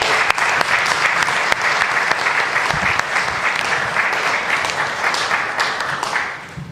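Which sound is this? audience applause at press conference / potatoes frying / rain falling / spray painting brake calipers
audience applause at press conference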